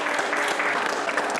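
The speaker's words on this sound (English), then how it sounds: "Give her a round of applause." An audience claps at a live show, a brief burst of dense, steady applause close by.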